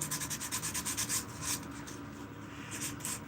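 A forged spoon is sanded by hand with coarse 60 grit sandpaper, giving rapid rhythmic scraping strokes close up, then slower, fainter rubbing.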